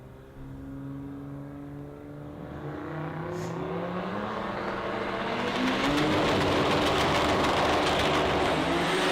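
Two Holden VL drag cars, one with a six-cylinder engine, launching side by side at an Australian sports compact drag meet, engines rising in a loud, growing roar that builds steadily to a full sustained blast.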